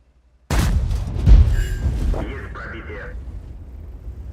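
A tank cannon fires in an online tank battle game, a single heavy boom that rolls into a long fading rumble with metallic ringing, loud and close, with someone talking over it.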